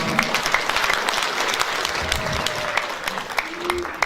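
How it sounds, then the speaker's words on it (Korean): A crowd at a Korean charity event applauds a member of the National Assembly as he comes up to speak, steady dense clapping throughout with a few sharper claps and a faint voice under it. "환희 박수 부탁드리겠습니다"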